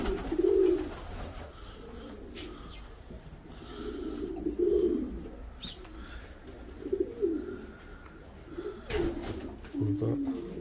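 Pigeons cooing inside a loft with young birds, with soft, repeated low coos from nearby birds at uneven intervals and light rustling and movement between them.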